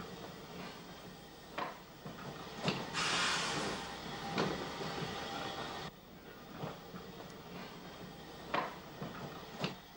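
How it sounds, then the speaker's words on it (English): Railway goods wagons being loose shunted past on an Irish line, headed by a large bogie van built for fish traffic: a steady rolling rumble with repeated clanks and wheel clicks passing close by, with no talk. "The large bogie van number 89 heading the wagons being loose shunted past the camera"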